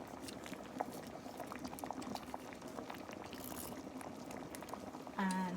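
Beef tripe soup bubbles at a steady low boil in a pot as bok choy leaves go in, a continuous soft burble with small splashes and a brief clink near the end.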